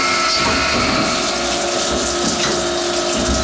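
International Carbide Engineering saw-blade grinding machine running in a grinding shop, a loud steady whir with a watery, coolant-like rush and faint ratcheting clicks, continuous and close, without voices.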